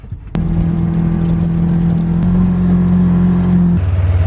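A Ranger utility vehicle drives along with a steady, close engine drone that shifts pitch a couple of times as it changes speed, with no talking.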